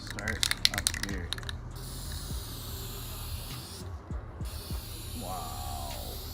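White spray paint hisses from a can onto a 4th Gen Dodge Ram during rust repair, in short close bursts over faint background noise.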